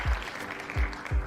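A short burst of clapping and applause, moderately loud, with a few thumping low hits mixed in over about a second.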